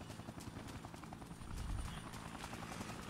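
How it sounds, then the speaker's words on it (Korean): A helicopter in the zombie action game Dead Rising chops steadily in the distance, its rotor thump swelling briefly louder midway against a low game ambience. "헬기 자꾸 나댄다."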